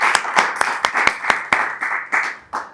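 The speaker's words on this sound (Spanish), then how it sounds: "un aplauso" A small studio audience claps to welcome a guest, about a dozen distinct sharp claps ringing close and loud in a steady, slightly uneven rhythm.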